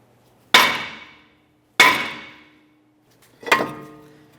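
Three loud, separate metallic hammer strikes ring out close by as a stuck front brake rotor on a 2015-2019 Subaru Outback is tapped to break it free, each hit decaying briefly before the next.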